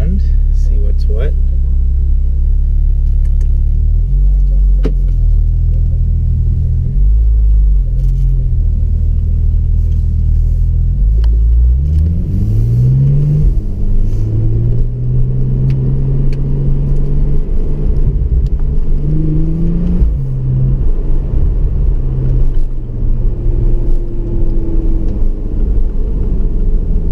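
A 2015 Porsche 911 Turbo S Cabriolet driving slowly around a race circuit paddock, a loud steady engine drone with gear changes and rising revs, heard from inside the open car under continuous talk.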